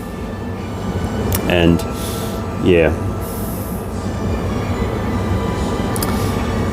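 A 6-car Showgrounds Express train underway, a steady interior rumble of the carriage with someone talking over it and two brief squealing sounds in the first half.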